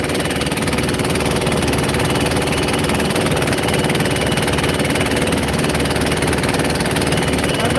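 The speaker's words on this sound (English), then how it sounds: "I'm right over the engine. That's why it's so noisy." A fishing boat's engine in the Philippines, heard from directly above it, runs loud and close as a steady low rumble with dense mechanical vibration, unbroken for the whole stretch and with no talking.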